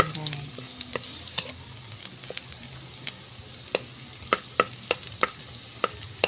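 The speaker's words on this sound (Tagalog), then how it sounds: "Na-brown konti yung ahos natin, garlic." Garlic fries and browns in a pan for menudo, a soft steady sizzle underneath sharp intermittent clicks and scrapes of stirring, close by, with light background voices.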